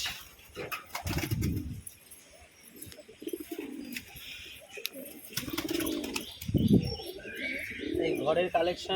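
Pigeons coo in low, repeated throaty bursts, with a faint chirp now and then and some background voices throughout.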